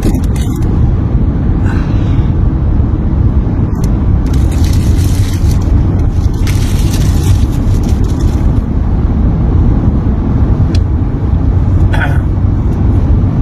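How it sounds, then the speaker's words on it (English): Crunchy bites into a pork chili verde tostada bought at a gas station come as a few sharp, brittle crackles scattered through the stretch, heard over a loud, steady low rumble. "I'm gonna take my final bite right now"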